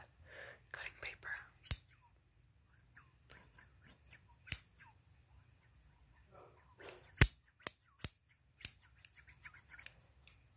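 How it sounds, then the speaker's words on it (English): Scissors snip through paper in close, crisp bursts at a slow, uneven pace against near silence, with soft whispering in between the cuts. "I have some paper that I'm going to cut"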